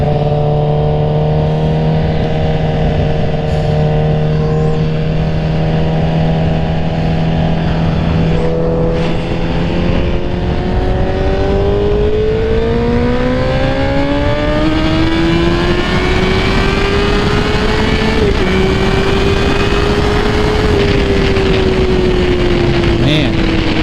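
A Honda CBR1000RR motorcycle engine drones loudly under the rider while it is ridden on the road, its pitch climbing steadily and then levelling off, with wind rushing throughout.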